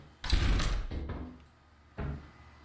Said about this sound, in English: That unnecessarily sudden thrust of the door opening.